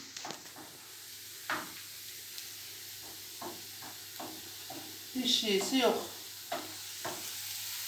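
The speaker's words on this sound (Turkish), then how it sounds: "Soğanımızı böyle kızartayım." Sizzling and stirring of onions frying in a pan with a soft crackle, a louder burst of frying near the middle, while a person speaks briefly at low level.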